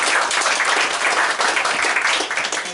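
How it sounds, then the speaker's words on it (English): A conference audience gives a brief, dense round of applause to welcome a speaker on cross-functional design collaboration. The clapping stays loud and continuous from start to finish. "Let's have a big round of applause for Ernie."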